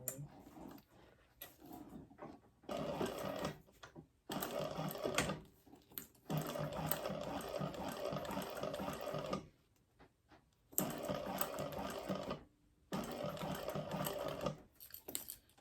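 A sewing machine top stitches a bag with a larger stitch, running in several sustained bursts separated by brief pauses, close and fairly quiet.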